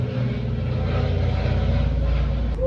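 A small model airplane with a droning engine passes overhead, a steady mid-loud buzzing hum that holds for the whole stretch with a slight rise near the end, no talking.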